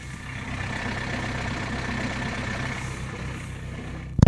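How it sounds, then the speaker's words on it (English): A tired 1998 Citroen Saxo diesel car engine runs steadily at idle, a continuous low rumbling clatter heard close and alone, ending with a brief louder knock. "The good old diesel sound."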